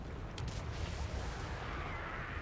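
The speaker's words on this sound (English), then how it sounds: "An explosion there, which did very little" A deep, rumbling explosion from gunfire booms through steady battle noise in Total War: Warhammer 3, during a Karak Kadrin campaign as Ungrim Ironfist, with a brief sharper burst early on and no voices.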